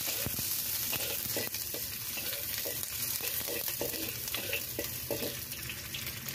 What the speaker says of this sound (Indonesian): kita tumis bawang putih dan bawang merah